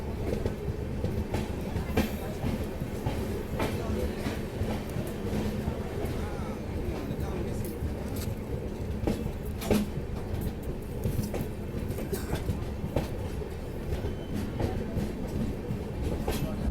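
The Farakka Express passenger train rolls along the rails with a continuous low rumble, scattered clicks and clanks from the carriage, and a steady, close interior sound throughout.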